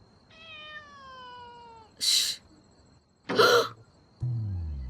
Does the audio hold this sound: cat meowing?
yes